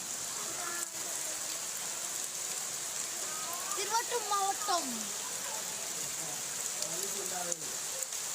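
Steady rain falls in Vellore district, a soft, even hiss running throughout, with a voice speaking briefly over it near the middle.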